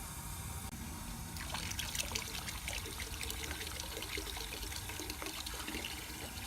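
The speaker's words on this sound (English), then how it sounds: "So we fill our bucket up with about 4 gallons of water" Water pours steadily into a bucket being filled with about four gallons for an acid cleaning solution, a continuous splashing trickle heard close and alone.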